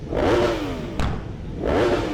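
On a seaside promenade during the TT races, an engine revs loudly twice, each rise climbing and falling, with a short mechanical crack between bursts, heard nearby and alone.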